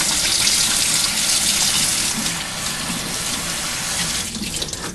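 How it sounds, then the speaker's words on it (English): Tap water gushes steadily into a sink while hands are washed, a loud, continuous splashing rush heard up close from start to finish, with no talking over it. "Let me wash my hands real quick."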